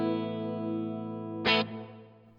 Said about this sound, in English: Like, let's hear what the actual reverb.